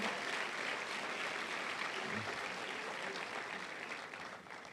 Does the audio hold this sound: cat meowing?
no